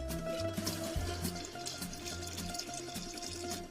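Cold water poured into a batch of homemade limoncello, a steady liquid pour with a continuous splashing, gurgling stream that stays fairly close and even for several seconds.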